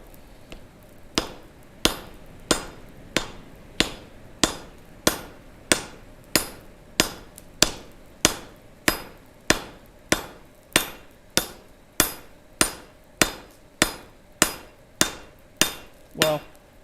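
A blacksmith hammers on an anvil at a gas forge, about two dozen loud, ringing metal blows in a steady, even rhythm, close and alone with no talk.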